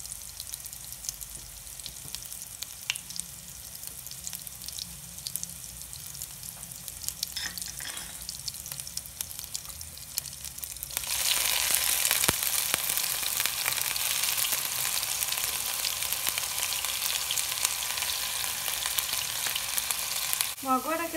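Onion paste goes into butter in a pan, and halfway through the quiet simmer jumps to a loud, dense, steady sizzle that lasts to the end, with a few faint stirring scrapes. No talking.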